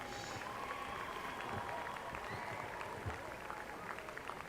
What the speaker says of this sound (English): one more round of applause for all of our football, cheerleading, trainers, and band seniors